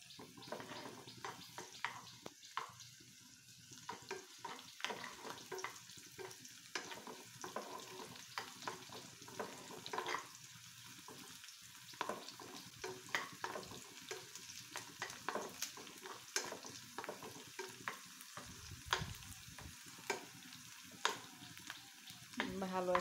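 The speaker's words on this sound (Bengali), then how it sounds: "আমি এখন ভালো করে পেঁয়াজ রসুনটা ভেজে নেব।" Onion and garlic frying in a pan for a spinach and eggplant dish, with a steady low sizzle and frequent scraping stir clicks throughout, alone without talk.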